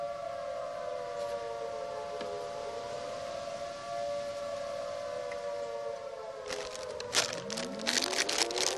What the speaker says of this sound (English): The sirens are going now.